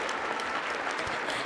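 Steady applause from an audience at a spiritual talk, dense clapping continuing evenly throughout at moderate loudness, with no voices breaking through.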